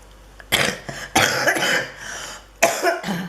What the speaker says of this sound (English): Since I had to cough.